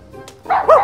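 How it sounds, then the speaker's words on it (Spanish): A small poodle yaps in short, sharp barks, two quick loud yips close by after a softer opening whimper, with no talk over it. "¡Ay, es un canichito!"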